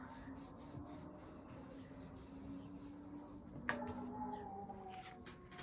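An ink blending brush rubbed out on a surface makes faint, repeated soft brushing and scuffing strokes in a quiet room, with a brief louder rub near the end.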